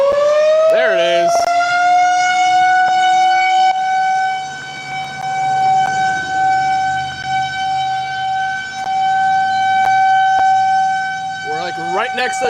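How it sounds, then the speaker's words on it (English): A civil defense tornado warning siren wails in a long, sustained, loud tone during a high-risk tornado outbreak in the mid-Mississippi Valley, holding steady nearby while people talk over it. "We're like right next to the tornado warning or siren."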